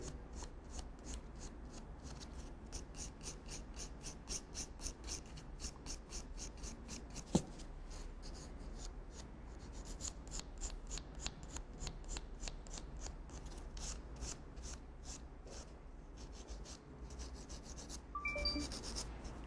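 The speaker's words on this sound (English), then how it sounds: "now I'm going to use a 150 grit file to push back the cuticle and remove the shine on the natural nails" A 150 grit file rasps across natural fingernails while pushing back the cuticle, a quick, even run of close, soft scraping strokes that continues throughout with no talking.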